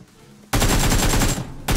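Rapid automatic gunfire bursts loudly in a mobile battle royale video game, a dense rattle of shots lasting about a second after a quiet start, then resuming briefly.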